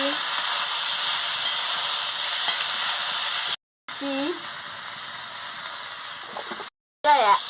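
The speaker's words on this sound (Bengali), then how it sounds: "মাংসটা দিয়ে দিচ্ছি দিয়ে ভালো করে ভেজে নিচ্ছি" Meat frying in a pan, a steady close hiss and sizzle that runs continuously, broken by two brief silent cuts, with a few faint tonal squeaks.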